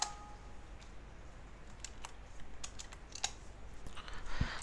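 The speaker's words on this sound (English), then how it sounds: "Type in my password." Password typed on a computer keyboard while setting up a Linux Ubuntu server: quiet, irregular key clicks tapping in a short burst against a soft background hiss.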